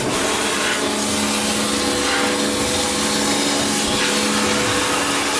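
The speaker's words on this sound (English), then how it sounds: "Next on the list, fuel tank. Try and power hose this out, see if it's alright." Pressure washer spraying water to flush out a car fuel tank from a Toyota KE70, a steady loud broadband hiss and rush of water that continues unbroken without any talk.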